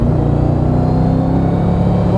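Deep, continuous burble from the engine of a 2007 Mercedes SLR McLaren Roadster while driving, a loud rumbling exhaust drone heard from inside the car with no talking.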